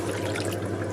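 Tamarind water pours steadily into a pot for horse gram rasam, a continuous close splashing stream that lasts the whole second.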